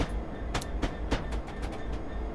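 A freight train in Train Simulator 2019 runs through Luton on a Bedford freight mission, giving a steady low rumble with a series of sharp rhythmic wheel clicks, fairly close and with no talk.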